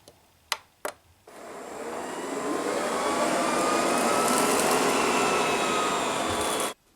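Ecovacs Deebot M81Pro robot vacuum picking up fine toaster crumbs from carpet: two sharp clicks, then the motor starts and builds into a loud, steady whirring suction roar that stops abruptly near the end.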